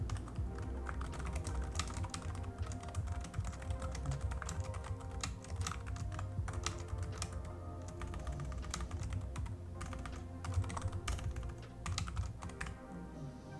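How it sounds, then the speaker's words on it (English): A very clickety computer keyboard clatters with fast, steady keystrokes at close range, the typing dense and continuous with no voices over it. "I think this keyboard's very clickety."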